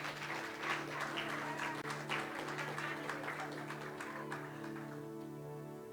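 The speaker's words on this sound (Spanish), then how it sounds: "Si quieren aplaudir, háganlo en el Señor." A church congregation applauds at the close of a sermon, a soft, scattered round of clapping that thins out toward the end as sustained organ-like music continues underneath.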